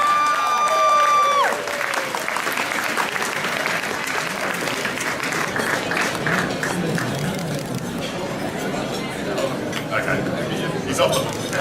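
Applause from a gala audience rolls through a large hall, sustained and dense, with crowd chatter and a voice briefly speaking over it at the start.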